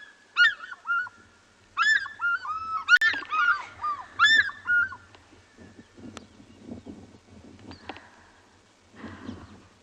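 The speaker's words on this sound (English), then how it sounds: "That sound is said to be one of the most iconic sounds of Africa, or at least South Africa, the fish eagle." A pair of African fish eagles gives loud ringing yelping calls in a few repeated bursts, answering each other on a South African sunset safari, followed by quieter rustles and faint scattered sounds.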